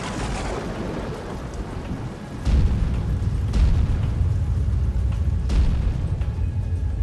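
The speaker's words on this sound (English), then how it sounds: "The sky was thundering and lightning" A thunderstorm with steady heavy rain and deep rolling thunder, the rumble swelling loud and close partway through and holding under the constant downpour, with no voices.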